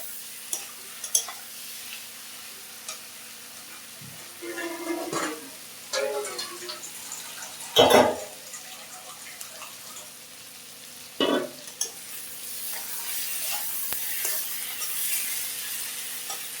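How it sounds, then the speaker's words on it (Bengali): Tengra fish being sautéed in a pan for a tomato curry: a low, steady sizzle with intermittent scraping stirs and one louder clank of the utensil against the pan, no talk. "এখন মাছগুলো দিয়ে দেব, মাছগুলো দিয়ে কষাবো।"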